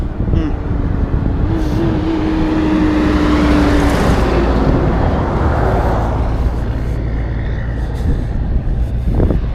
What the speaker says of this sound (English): God, cars after cars all the time.